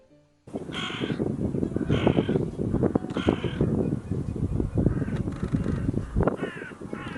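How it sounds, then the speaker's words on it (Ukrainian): Several crows caw loudly and repeatedly, harsh calls overlapping in an irregular rhythm against a steady outdoor background. "Давайте з вами послухаємо, як кричить ворона."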